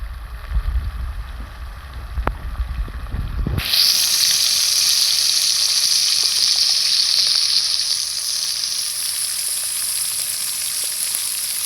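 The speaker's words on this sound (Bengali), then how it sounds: "আলুটা আমি খুব সুন্দর করে একটু তেলে ভেজে নিলাম" Two medium-sized cut potatoes hit oil already used for frying, and after a few seconds of low rumbling handling noise a loud sizzle bursts in and holds steadily.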